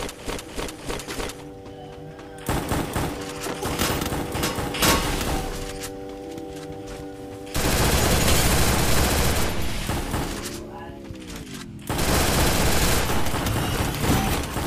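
Bursts of enemy gunfire crackle in a video game, with rapid rattling volleys and booms alternating with quieter stretches, tonal game sounds sweeping in between.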